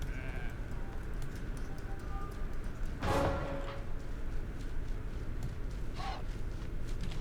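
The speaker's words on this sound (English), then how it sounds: "Alright, we got another sheep over here." Sheep bleat in the video game RIFT, a loud burst at about three seconds and a shorter call near six seconds, both over a steady background of game ambience.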